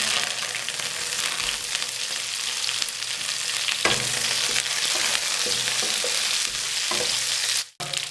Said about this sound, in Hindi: तकरीबन 4 से 5 मिनट हल्की आंच पे फ्राई कर लेंगे।